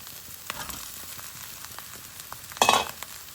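Noodles hit a hot pan for prawn 65 noodles, a steady close sizzle and fry with a brief louder burst of crackling near the end as they go in.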